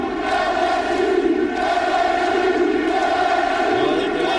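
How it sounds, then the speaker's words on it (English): Stadium crowd at an LSU college football game against Ole Miss in 1997, a continuous loud massed roar with a tonal, chant-like hum, sustained evenly with no pause. "But wait till you hear this crowd."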